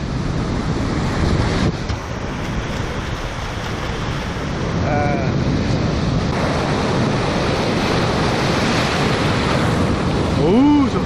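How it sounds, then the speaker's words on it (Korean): Steady roar of surf and waves washing in, with wind buffeting the microphone throughout; a faint voice briefly breaks through near the end. "파도들 봐."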